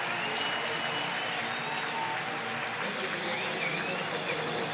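A baseball stadium crowd at a Padres–Cardinals game gives sustained applause during a pitching change, a broad, steady roar of distant clapping and crowd noise with faint voices mixed in.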